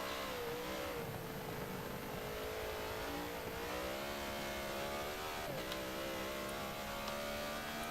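Race car engines in a GT racing video game, a continuous mid-pitched whine that rises and dips with gear shifts, heard at a fairly low level.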